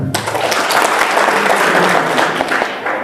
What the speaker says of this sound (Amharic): አጨብጭቡ ለራሳችሁ በጣም።